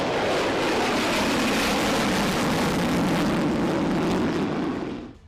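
Several US fighter jets fly overhead, a steady, loud roar that holds for about five seconds and then fades quickly at the end. No voices are heard.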